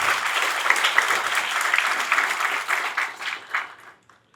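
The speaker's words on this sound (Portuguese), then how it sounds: "uma salva de palmas a eles" An audience applauds the committee behind the 2025 study notebook at a launch event of the Fórum Desenvolve Londrina. Dense, steady clapping from a sizeable crowd fades out near the end.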